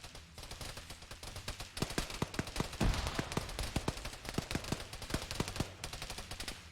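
Rapid bursts of rifle fire from an Army air assault unit after an order to open fire, sharp repeated cracks in quick succession, some close and loud, growing denser midway, with no talk.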